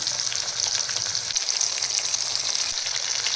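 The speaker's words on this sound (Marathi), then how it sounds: "आता आपण हे टमॅटो आहे ना छान याच्यामध्ये फ्राय करून घ्यायचे" Whole tomatoes and raw green mango sizzle in a pan for chutney, a steady bright crackling hiss with soft stirring, close and continuous without speech.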